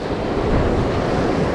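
Steady roar of large ocean surf breaking on rocks, with wind buffeting the microphone, loud and continuous.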